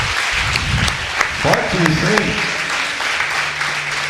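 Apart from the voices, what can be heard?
congregation applauding in church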